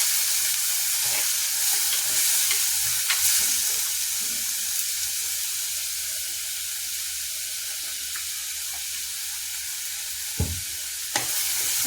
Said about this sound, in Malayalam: ഇത് പച്ചമുളക്, ഇഞ്ചി, വെളുത്തുള്ളി എല്ലാം കൂടി ഒന്ന് വഴറ്റിയെടുക്കണം നന്നായിട്ട്